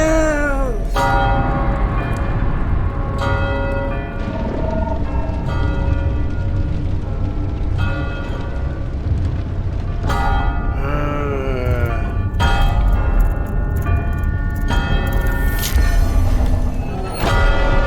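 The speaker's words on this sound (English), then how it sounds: "The bells! The bells!" Church bells tolling during a cutscene in the video game Death Stranding, loud and steady throughout, with repeated ringing strikes over a dense, sustained musical background.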